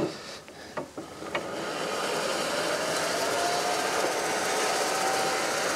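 Lawn mower cutting grass low on a lawn, a few sharp knocks at the start, then a steady loud droning hum close by.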